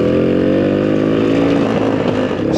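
A classic two-stroke motorcycle from the 1950s runs steadily while being ridden in third gear, its engine note a loud, continuous buzzing drone with a faint rise in pitch toward the end.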